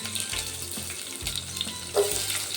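Onions sizzling in a pan with cumin seeds, a close crackling fry with soft spatula scrapes between bursts, moderately quiet and with no voices.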